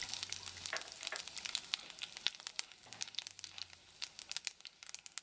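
A dried red chilli and a spoonful of panch phoron crackle and sizzle in hot oil left over from frying prawns, a faint steady spatter of tiny pops with no voices.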